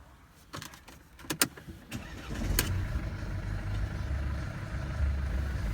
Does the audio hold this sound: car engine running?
yes